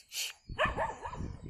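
Dogs bark outdoors during a walk, a short burst of noise followed by a few quick yips and barks close by, lively and fairly faint.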